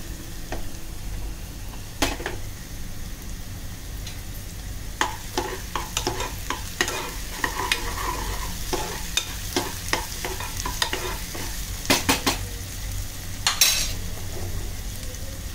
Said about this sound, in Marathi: वाटण सगळं तेल सुटेपर्यंत चांगलं आपल्याला त्याच्यामध्ये भुनून घ्यायचं आहे.